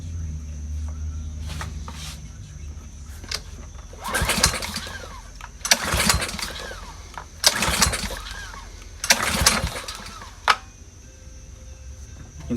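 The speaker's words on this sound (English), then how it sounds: "That's a great running engine right there." A Honda GCV 160 small engine, just repaired after a no-compression fault, is pulled over several times in bursts of cranking and sputtering, with a low idle rumble between the pulls, close and moderately loud.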